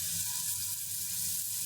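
Tilapia fish frying in a pan, a steady dense sizzle of hot oil that stays constant and close throughout, with no voices.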